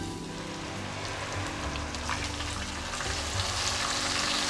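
Onion paste frying in a pan for Lahori black-pepper chickpeas, a steady close sizzle with faint stirring running throughout.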